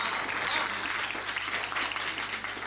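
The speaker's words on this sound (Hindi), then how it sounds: "तालियां कमजोर थी" A live comedy show audience claps together in a dense, steady burst of applause that holds evenly throughout.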